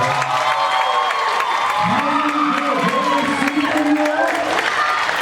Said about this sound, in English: So how about a big round of applause for Monday,